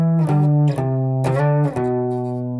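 Electric guitar playing an octave lick from a song, a few sustained, slightly distorted doubled notes with sharp attacks, loud and alone with no talking.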